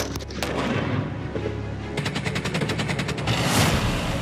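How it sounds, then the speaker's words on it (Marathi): Desert military exercise of India and the United States: loud bursts of rapid gunfire crackle in quick volleys, mixed with heavier booms of artillery, continuing densely throughout. "वाळवंटात बंदुकीच्या फैरी आणि तोफांचा मारा."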